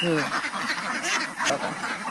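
Several ducks on a duck farm of about nine hundred birds quacking in a noisy, overlapping chorus, loud and close, with a voice briefly mixed in.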